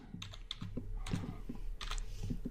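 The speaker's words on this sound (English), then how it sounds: "I'm going to type in title," Someone types on a computer keyboard while entering HTML code in a text editor, giving short bursts of crisp key clicks in an uneven rhythm, close and fairly quiet, with no speech.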